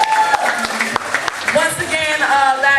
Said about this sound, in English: Y'all clap it up one more time for Jay Alexander.